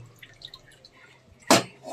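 Hot water from boiled sago is tipped out of a pot, landing as one short sharp splash after a quiet stretch with faint kitchen sounds.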